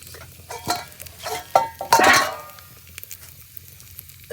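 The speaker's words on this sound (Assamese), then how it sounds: "নহৰুকেইটা অকণমান সিজিব দিব লাগে" Garlic cloves cooking in hot oil in a pan, soft close sizzling with a few stirring scrapes and clinks, the loudest burst near the middle before it settles back to a low fizz.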